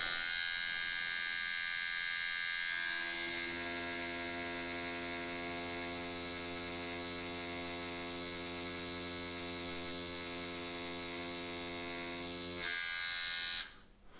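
A Pope Irons T3X tattoo machine running on a battery grip, a steady close electric buzz with a whining hum that holds for about twelve seconds, then briefly changes pitch and cuts off.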